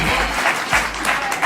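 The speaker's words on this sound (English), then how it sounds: "he doesn't deserve any applause" Applause from a clapping audience comes in short, close bursts that swell and fade across the moment, standing alone without talk during a poker tournament.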